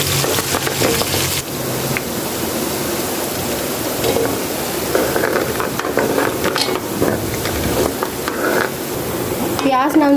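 Onions frying in ghee with cumin, a steady loud sizzle with stirring scrapes in a pan, continuing throughout.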